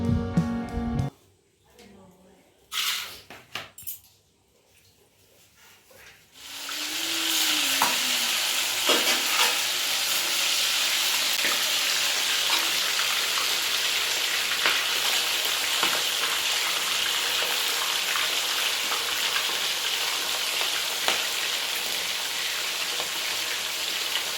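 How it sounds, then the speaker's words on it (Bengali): Food frying on a gas stove in a village kitchen, likely fish coated in turmeric and salt: a loud, steady hiss and crackle that starts after a few quiet seconds with faint knocks and a short voice, then runs evenly to the end. "দিদা গ্যাসেতে সমস্ত ভাজাভুজি করছে"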